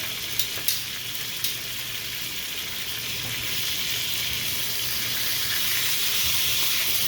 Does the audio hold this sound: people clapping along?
no